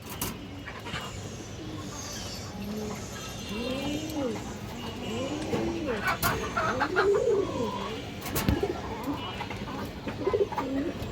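A pair of old-breed black Dobas flying pigeons coo in a run of rising and falling calls, growing louder and busier toward the end, with faint background noise and occasional sharp knocks.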